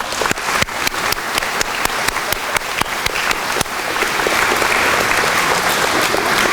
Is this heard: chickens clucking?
no